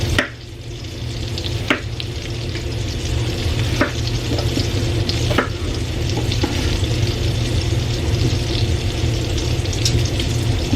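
Onion frying in a pan alongside roasting pork tenderloin and potatoes, giving a steady, dense sizzle throughout with occasional soft clicks and stirring scrapes, close and continuous with no talking.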